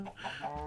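A Minecraft chicken gives a short, quiet cluck, close and heard on its own for well under a second.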